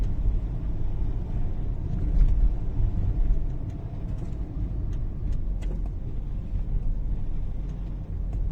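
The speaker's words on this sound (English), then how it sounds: "Now, Angela, in this impromptu drive around Sofia" A car drives through the streets of Sofia's historic centre in Bulgaria, giving a steady engine and road rumble from inside the vehicle for the whole stretch, with faint ticks and traffic noise.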